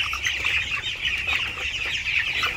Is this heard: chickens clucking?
yes